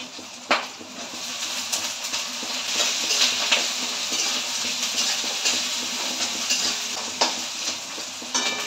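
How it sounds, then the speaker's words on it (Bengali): Capsicum and onion frying for chilli paneer, stirred in a pan: a steady close sizzle with scraping strokes and a few sharp utensil knocks, no talking. "একটু হালকা হালকা ভাজা হবে"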